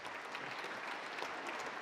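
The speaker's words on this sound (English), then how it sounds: "So give him the applause for last year." A banquet-hall audience at a forecasting dinner applauds a previous year's prize winner, a dense, steady wash of many hands clapping at even loudness for under two seconds.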